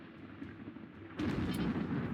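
Mortar fire in the colony game RimWorld: a steady low rumble gives way to a louder, sustained burst of booming blasts partway through, with no voices.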